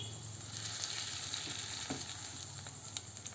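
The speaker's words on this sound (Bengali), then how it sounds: "এই দেখুন কি সুন্দর বড়াগুলো ভাজা হয়ে গেছে।" Fritters of gima greens fry in a pan with a faint, steady sizzle and crackle. Occasional soft clinks and scrapes sound nearby.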